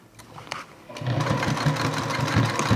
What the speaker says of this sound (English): So now we can sew these all the pockets in place.